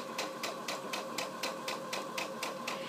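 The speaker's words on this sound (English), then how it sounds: "I'm going to sew all the way around to the very beginning stitch" Sewing machine stitching around a Halloween costume contest award ribbon, a quiet, fast, even rhythmic clatter of the needle with a steady motor hum, close and uninterrupted.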